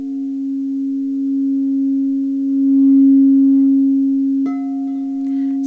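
A steady, pure low drone presented as the Schumann resonance of about 7.83 Hz, sustained and unchanging with faint overtones, shifting slightly in tone near the end, heard alone with no voices.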